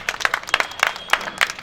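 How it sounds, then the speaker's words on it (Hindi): An audience at an Indian poets' gathering marking Navy Day and Victory Day claps for the host in scattered bursts, uneven and fairly close, lasting only a moment. "इनके सम्मान में एक बार और तालियां बजा दीजिए"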